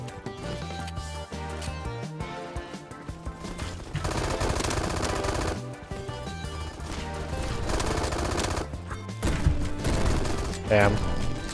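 Rapid automatic gunfire in the Roblox shooter Bad Business, fired in long sustained bursts over a dense game soundtrack, loud and close, with a voice talking at times.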